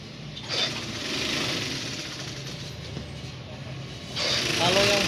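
A manual sewing machine stitching knit fabric onto a 180x200 spring bed mattress, running with a continuous close mechanical clatter that rises louder toward the end.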